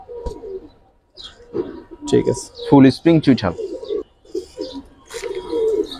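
Pigeons coo in repeated throaty bursts at a Bangladeshi pigeon market, heard close and mixed with people talking nearby.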